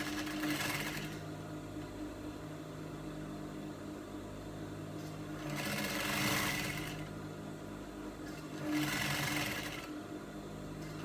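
A sewing machine stitches down the neckline of a top, its quiet steady motor hum swelling in three brief louder passes of faster needle work.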